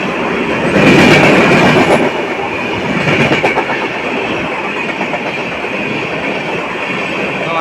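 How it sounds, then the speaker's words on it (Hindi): A passenger express train on the Udhna–Jaynagar line rushes past at high speed on the adjacent track, loud rumbling with rhythmic clickety-clack of wheels over rail joints and brief metallic squeal, heard close from a halted coach. "काफ़ी स्पीड में पास करते हुए दूसरी रेल।"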